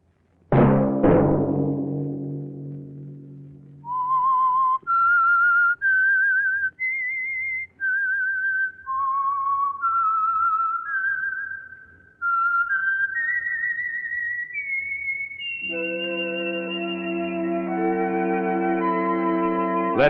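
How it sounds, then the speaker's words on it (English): A lone whistled melody, the theme of The Whistler radio mystery show, moves through clear sustained notes step by step and then gives way to a fuller held orchestral chord. "Let that whistle be your signal for the Signal Oil program, The Whistler"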